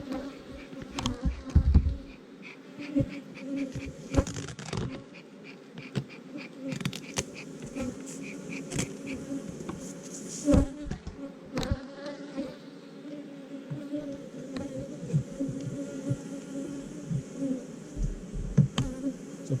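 Honey bees buzz around hive boxes during a honey season inspection, a steady swarm hum close by with individual bees zipping past the microphone and occasional clicks and handling knocks.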